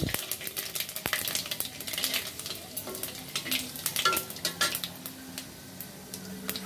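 Panch phoron spices crackling in hot oil in a pan, a dense busy sizzle with quick popping ticks and occasional clinks of a metal utensil against the pan.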